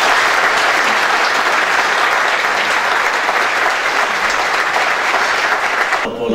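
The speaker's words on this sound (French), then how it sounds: "je vous invite à applaudir nos invités d'honneur" Audience at an international summit on trust applauding its guests of honour, a loud, sustained burst of clapping from a large crowd that fades at the very end.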